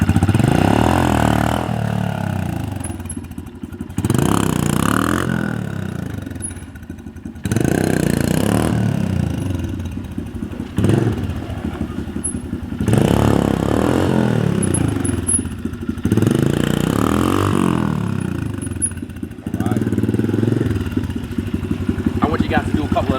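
A Honda CRF125F dirt bike engine repeatedly revving and pulling away in short bursts, rising and falling between idle and acceleration, with someone talking over it.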